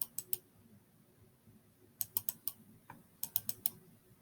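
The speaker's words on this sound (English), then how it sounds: "come in and click. Sometimes you have to click twice." Mouse clicks on a drawing canvas, quiet close sharp clicks in small clusters of two or three, separated by short silences.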